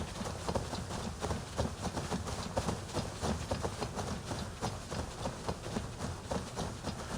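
A horse gallops in Assassin's Creed Valhalla, its hooves beating a quick, steady clip-clop rhythm throughout, moderately close and heard alone without speech over a soft background.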